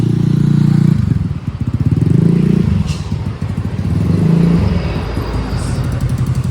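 Motorcycle being pushed back inside, its engine idling with a close, steady rumble and uneven revs, mixed with clattering and handling noise throughout.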